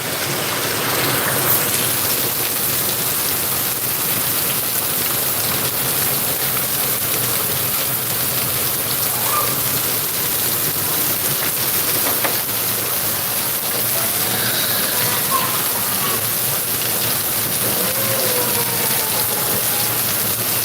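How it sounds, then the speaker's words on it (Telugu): Heavy rain pours down over Bardipur village in a dense, unbroken hiss that stays loud and even throughout, with no voices. "బర్దిపూర్లో వర్షం అయితే బాగా వస్తుంది"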